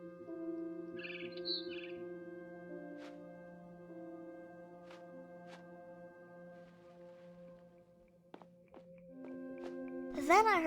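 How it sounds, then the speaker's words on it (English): A barn swallow in the game What Remains of Edith Finch chirps faintly outside a window, in a few brief calls over soft, sustained music, with a brighter burst of chirps at the end. "Then I heard chirping outside my window."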